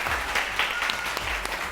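Studio audience at a television variety show breaks into loud, dense applause, with a few sharper individual claps and cheers standing out in the steady clapping.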